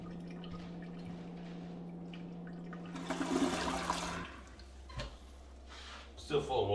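Water draining from opened taps in a house being stripped for copper: a steady hum, then a brief gushing burst of running water, followed by scattered drips and clunks, with voices nearby.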